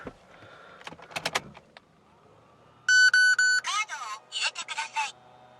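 A Nissan R34 Skyline's cabin unit chimes as the ignition comes on: a crisp run of electronic beeps and tones repeating in short bursts, loud and close, after some brief clicks and handling sounds.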